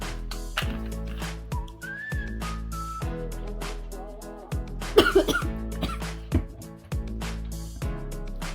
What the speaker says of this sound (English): Yes, you can cough, we're not professionals here.